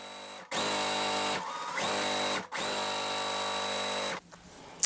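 A sewing machine stitches half square triangle quilt blocks in continuous chain-piecing runs: three long bursts of steady, close motor whir with brief pauses between, followed by a softer rustle of fabric at the end.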